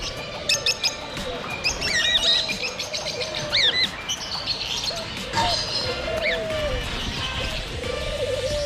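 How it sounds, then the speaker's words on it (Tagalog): Many lovebirds at a bird expo in Pleasanton, California chirp and tweet in bright overlapping calls, close by, over a busy indoor hum. "Ito oh, ang daming lovebirds oh."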